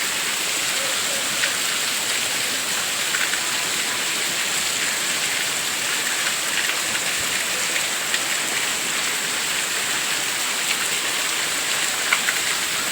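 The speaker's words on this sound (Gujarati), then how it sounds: "બધે એટલો જ વરસાદ આવે છે" Heavy rain pours down in a dense, unbroken hiss of drops on surfaces all around, loud and steady for the whole stretch with no voices over it.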